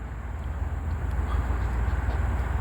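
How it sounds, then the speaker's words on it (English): A low, continuous rumble from an approaching train in the woods, steady and moderately loud, with no horn and no voices. "So I think I got a train coming."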